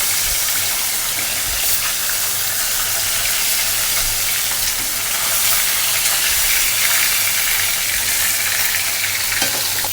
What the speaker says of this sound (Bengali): মাছটা বেশি ভাজবো না কড়া ভাজা দিব না